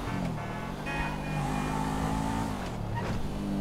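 A car engine in Grand Theft Auto V drones and revs while driving around a golf course, with shifting engine pitch and a steady, close road hum throughout.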